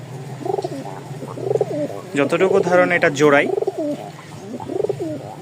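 Pigeons coo in low, throaty rolling bursts close by, with a person speaking briefly in the middle.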